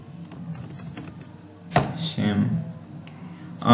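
Quick keystrokes as a password is typed on a computer keyboard, a flurry of light clicks followed by a louder thump and a brief rustle, with a voice speaking faintly underneath.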